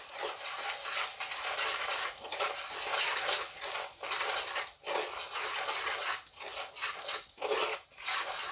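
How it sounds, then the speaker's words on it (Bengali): A spoon scrapes and stirs a spice mix with melting jaggery in a pan off the flame for amla pickle, a steady run of rhythmic rasping strokes with brief pauses between them. "এবার গুড় দিয়ে মশলাটাকে খুব ভালো করে মিশিয়ে নেব।"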